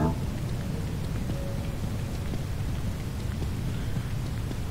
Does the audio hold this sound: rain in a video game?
yes